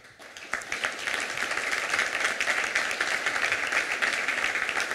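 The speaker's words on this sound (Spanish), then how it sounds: "quiero en primer lugar pedir un aplauso para toda nuestra jefatura." Applause at a Puerto de la Cruz local police day ceremony, honoring the police leadership: dense, steady clapping from an audience that swells in quickly and holds at a moderate, even level for the rest of the stretch.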